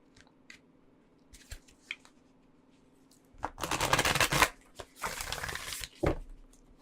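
A deck of oracle cards is shuffled close by: a few soft taps, then two dense bursts of rapid flicking riffles, quiet and alone.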